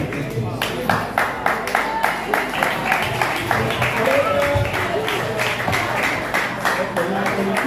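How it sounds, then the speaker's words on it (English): Audience applause at a Nigerian high school program, rhythmic hand claps repeating steadily with a few people clapping together, fairly close and moderately loud, with some voices mixed in. "Please clap for her, please."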